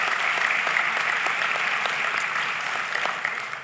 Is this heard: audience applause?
yes